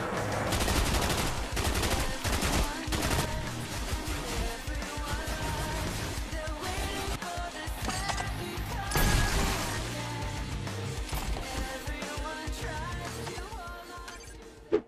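Rapid gunfire from the Call of Duty Zombies VR game, including RPK and Thunder Gun weapons, fills the scene in dense continuous bursts amid loud game sound, with no talking.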